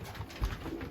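Pigeons coo in a loft with young birds, low soft calls that swell briefly near the middle of the short stretch over a steady faint background murmur.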